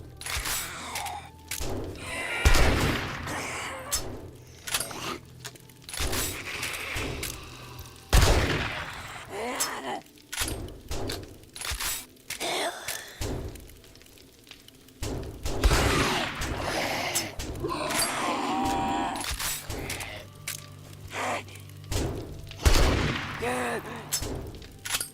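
Shotgun blasts in 7 Days to Die go off as repeated loud, sharp booms spaced several seconds apart, with mechanical reload clatter between shots and someone talking throughout.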